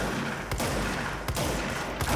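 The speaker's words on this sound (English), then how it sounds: "Let's see how the gunshot is" Gunfire in the video game Control, a dense, loud barrage of shots with a couple of sharper cracks standing out over continuous noisy rumble.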